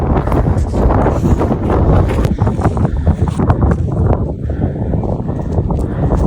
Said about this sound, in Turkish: bu rüzgar beni aşırı rahatsız ediyor